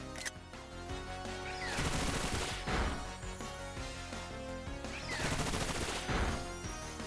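A Bullet Seed attack in the Pokemon Scarlet video game: loud rapid-fire bursts of popping, smacking hits in two dense volleys that ride over constant game music, with no talking.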